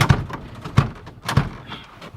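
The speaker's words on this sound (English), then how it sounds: "Door doesn't open." A Datsun 240C car door is tried without opening, giving three or four dull thunks and rattles of the handle and latch in quick succession, close and fairly loud.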